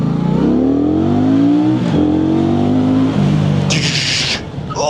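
A KOVE 625V Lancer motorcycle engine runs loud and close, its pitch climbing through gears with brief dips at clutchless shifts, followed by a burst of wind or tire noise.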